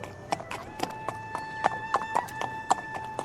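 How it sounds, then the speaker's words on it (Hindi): Cartoon horse hooves clip-clop in a steady walking rhythm, a dozen or so crisp close knocks over a faint musical tone, with a brief whinny-like edge; no one speaks. "तभी घोड़े की टोपों की आवाज सुनाई देती है।"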